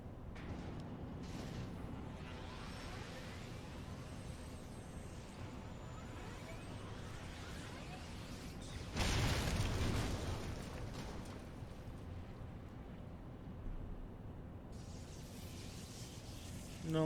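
Magitek armor firing explosive blasts in Final Fantasy XIV, a constant rumbling battle bed with a burst of heavier blast noise midway, fairly faint and distant overall.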